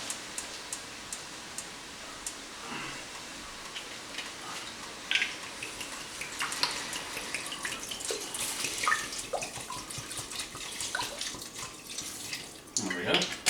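Tap water runs into a cooking pot for a Mexican grilled lamb recipe, a steady close splashing stream with small clinks and drips that fill the whole span, rising and brightening toward the end.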